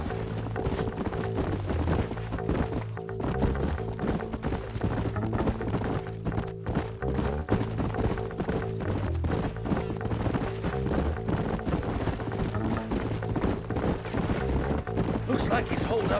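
Horses' hooves clip-clop steadily in the Red Dead Redemption video game, a continuous rhythmic patter under a constant bed of game music, with no talk.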